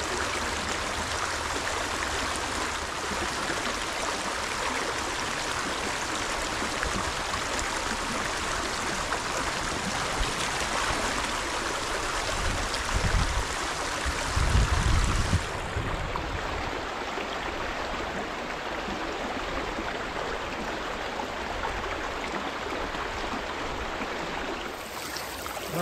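River water streaming steadily past a homemade river-powered rotisserie, a constant rushing wash with a brief low thump partway through, no talking.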